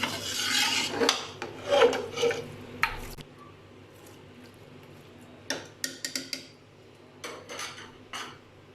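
A spoon scrapes and clinks against a metal pressure cooker pot in quick bursts of stirring mutton shorba with spices and water, separated by brief quiet pauses.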